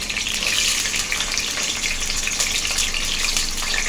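Onions frying in oil in a home kitchen pan, giving a steady, loud, broadband sizzle that holds evenly throughout with no talking.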